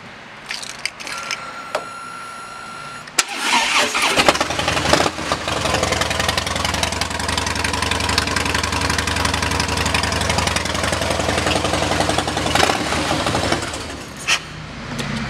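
A 2015 Harley-Davidson Softail Heritage Classic with Vance and Hines pipes and a high-volume air intake fires up after a few quiet clicks, then idles with a deep, choppy rumble and occasional throttle blips.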